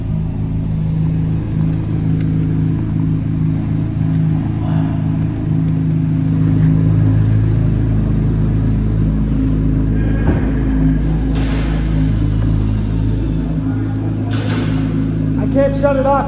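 A Corvette C8 Z06 engine idles with a steady low rumble and hum, continuous and fairly loud throughout, with a person talking over it.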